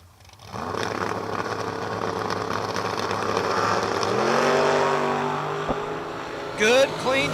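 Drag racing cars at a King of the Shore event, engines rising from near silence into a loud, sustained, climbing roar as the cars launch and run down the strip, with a sharp burst near the end.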